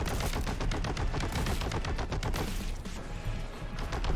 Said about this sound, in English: This delay when you press the button and the weapon actually starts shooting.